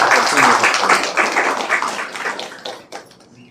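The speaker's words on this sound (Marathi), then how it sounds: "आपण सगळ्यांनी एकदा जरा जोरात टाळ्या वाजवून त्यांना दाद द्यायला पाहिजे" A crowd claps in a dense burst of applause that gradually fades out over a few seconds.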